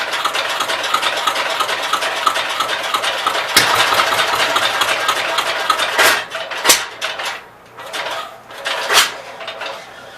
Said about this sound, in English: I probably should take that generator apart.